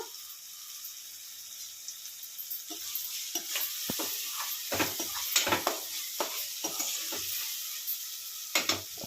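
Onions and curry leaves fry in a pan for a Telugu stuffed eggplant curry, a steady sizzle with bursts of stirring clatter and scraping building midway, close and fairly soft, no voices.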